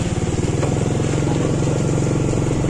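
A motorcycle idles close by, its exhaust putting out a steady, low chugging rumble.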